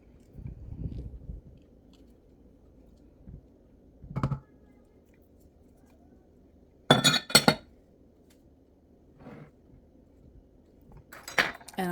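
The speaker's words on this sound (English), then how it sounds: "And I'm going to whisk it all together." A whisk clinks against a glass bowl while oil and honey are mixed for homemade white bread dough: a few sparse, sharp clinks spread apart over a quiet low hum.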